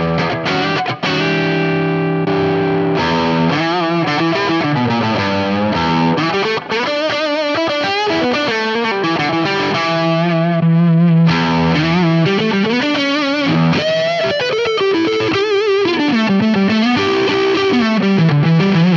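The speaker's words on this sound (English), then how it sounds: "whatever distortion mode this is with the clean sound is, it's kind of got a nice gritty fuzz thing going on" An electric guitar played through a Boss Katana-Head MkII amp on a gritty fuzz distortion setting rings out loud and saturated, with sustained chords and melodic lines flowing without pause.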